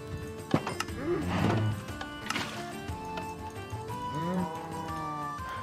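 Cows moo in the Minecraft video game, with several drawn-out low calls at moderate volume spaced across the stretch, alongside faint game sounds.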